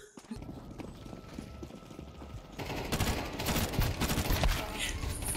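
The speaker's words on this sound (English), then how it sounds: "That is the worst burst firing I've ever seen." Rapid burst-fire gunshots in the video game Counter-Strike 2, a dense run of sharp cracks that grows louder and more intense in the second half over a low game background.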